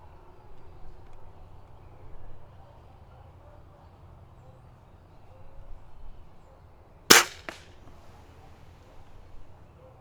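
A budget spring-piston air rifle fires one sharp, loud crack about two-thirds of the way in, with a brief echo, over a quiet outdoor background with faint low rumble.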